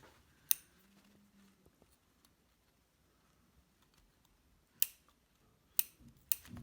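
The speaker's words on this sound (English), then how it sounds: "I'm going to snip it all the way right up to the corner." Small scissors make sharp, crisp snips into fabric while cutting along a seam edge: one snip, a long quiet pause, then three more snips in quick succession, close and clear.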